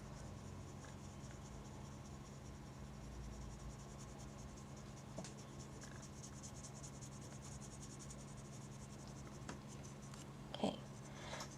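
A water brush draws out Inktense pencil colour on paper with faint, soft scratching strokes. A steady cricket-like chirring sits in the quiet background.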